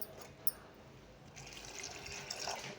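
Water pours and trickles into a pot of cooking black-eyed peas, a steady liquid splashing for a few seconds, fairly close and moderately loud with no talk.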